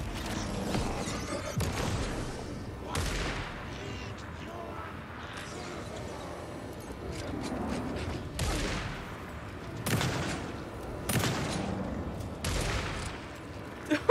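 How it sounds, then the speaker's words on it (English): Bursts of gunfire in Alan Wake II crack out repeatedly over a murky game ambience, with sharp shots spaced every second or two and a low background rumble. "Just shooting each other a foot away."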